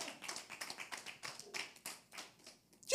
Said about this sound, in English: You can clap for the Lord.